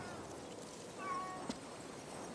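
A cat in the video game Ghostwire Tokyo lets out a single soft meow over quiet game ambience, followed by a faint tap.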